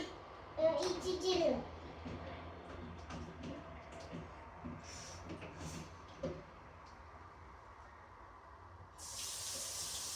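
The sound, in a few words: water tap running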